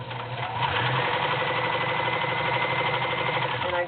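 Vintage Kenmore convertible free arm sewing machine running steadily, a continuous close whirring motor with rapid needle chatter, alone and unbroken.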